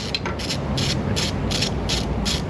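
Quarter-inch drive ratchet turning a 10mm nut, a steady run of rapid clicking pawl strokes repeating in short bursts, close and fairly loud with no talk.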